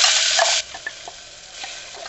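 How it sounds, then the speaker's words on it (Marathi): A spice masala tempering in hot oil with mustard seeds, cumin, curry leaves and asafoetida, opening with a loud burst of sizzle that drops off abruptly after half a second to a faint crackle with a few soft pops. "आता ही मसाला भाजत आलाय"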